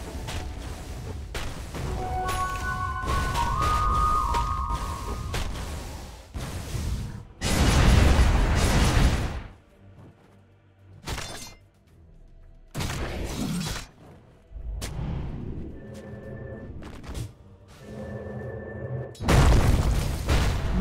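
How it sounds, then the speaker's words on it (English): Heavy booms and crashing impacts as a tower in Dota 2 is attacked during a professional match, arriving in loud separate bursts with quieter gaps between them. "Radiant's top tower is under attack."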